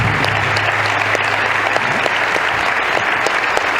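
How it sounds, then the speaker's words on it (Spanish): Steady, loud applause from a crowd at a panel discussion in Baeza fills the whole stretch, dense and even without a break. "Vamos a dar un aplauso, hombre."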